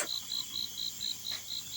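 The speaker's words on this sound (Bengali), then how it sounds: "ঝিঝি পোকা ডাকছে চারপাশে।" Crickets chirp in a steady, evenly pulsing rhythm, high and clear against a quiet night background at Novem Eco Resort.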